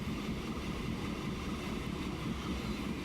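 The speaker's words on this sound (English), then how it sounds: "Alright, so train's coming out there." In the video game Transport Fever, a freight train pulls out of a station with a steady low rumble that stays constant at moderate loudness throughout.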